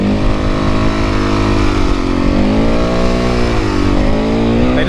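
Road traffic passes close by a supermoto rider, a loud, steady engine drone with rising and falling pitch as vehicles rev and go by, without speech.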